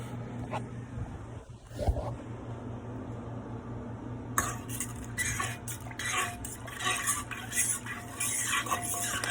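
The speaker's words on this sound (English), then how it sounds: "all of these sauces together, we're just going to mix them together" Sauces for fried chicken being mixed together with a utensil in a bowl: continuous close scraping and clinking over a steady low hum, the stirring growing busier and louder partway through, with no speech.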